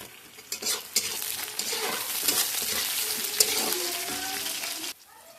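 Fish head frying in hot oil with raw tomato in a pan, a steady loud sizzle with stirring scrapes and clatter that cuts off sharply near the end.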